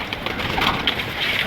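Record-holding high-flying pigeons kept by a fancier, with soft, faint cooing and light bird calls scattered over a steady background hiss, no talking.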